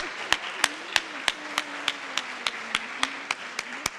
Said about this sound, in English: let's give our student panel a round of applause